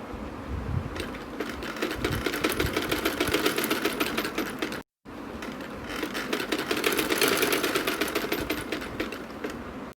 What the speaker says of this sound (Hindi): पहले हमने पाइपिंग नीचे की तरफ से रख के सिलाई लगाई थी, अब ऊपर की तरफ से लगाएंगे।